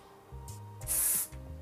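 Gold hair spray hissing from an aerosol can for about a third of a second, a loud bright burst over steady background music.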